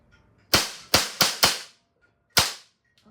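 A CO2 Umarex 4.5mm air pistol fires five sharp, loud cracks up close. The first four come in quick succession, and after a pause a single last shot follows.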